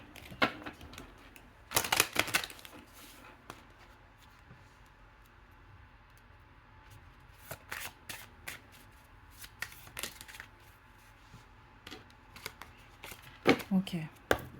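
Tarot cards are shuffled by hand in bursts of crisp riffling and soft slides, quiet pauses between rounds.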